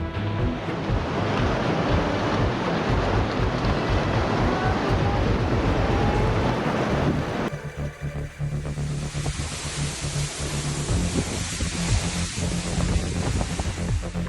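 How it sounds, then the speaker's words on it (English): Large ocean waves surging during footage of the 2011 Japan tsunami, a loud continuous roar of churning surf and wind noise that briefly drops around the middle, then resumes at a slightly lighter, hissing level. "In the deep darkness, the sound of large waves and shaking ground blended together, creating a scene both majestic and concerning."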